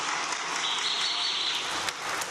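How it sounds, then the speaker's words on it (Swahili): Audience applauding at a Young Africans club gathering, a dense steady wash of clapping that holds at even loudness for the whole span, with no talk over it. "Tujipigie makofi Young Africans."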